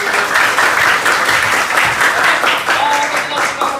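A seventh-grade class claps together in a classroom, a loud, close burst of applause sustained evenly for a few seconds.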